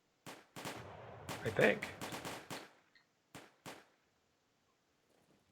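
Musket volleys crackle in a Napoleonic Wars battle game set at Lappo 1808, a dense cluster of overlapping shots followed by two isolated later reports, with a brief voice heard.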